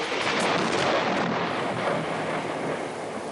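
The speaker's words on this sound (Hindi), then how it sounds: "मुझे बादल की गड़गड़ाहट से डर लगता है।" Thunder rumbles as a dense, roaring wash of low noise that holds steady for several seconds, loud and close, with no voices.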